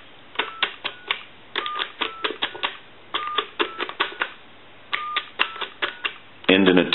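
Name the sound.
dialing numbers on converted touchtone telephone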